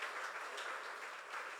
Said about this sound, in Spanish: dele fuerte el aplauso al Dios eterno